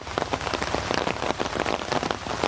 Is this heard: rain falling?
yes